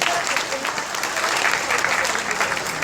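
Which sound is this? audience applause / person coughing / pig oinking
audience applause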